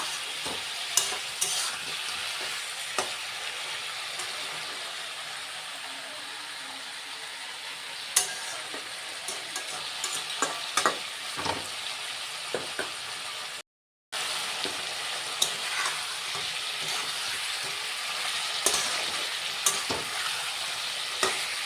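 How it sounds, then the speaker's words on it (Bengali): Mutton fries in a pan with a soft, steady sizzle, broken by scattered scraping and clacking as it is stirred, with one brief silent gap partway through. "মাটনটাকে সবে বসালাম"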